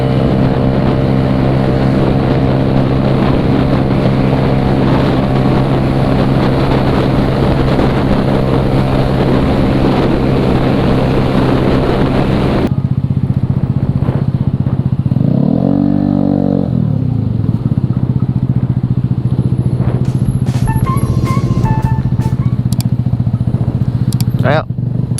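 Motorcycle with a freshly retuned CVT, given light throttle: a steady, loud engine hum with strong harmonics, then a quieter idle with a brief rising rev in the middle, with talking in the background.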